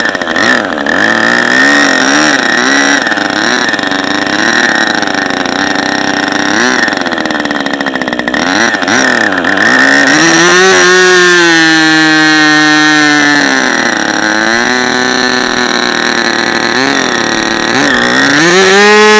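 Webra Speed 61 model engine running after a ring replacement, a loud, continuous high-pitched buzz that stays close throughout. Its pitch wavers and dips repeatedly as the throttle changes.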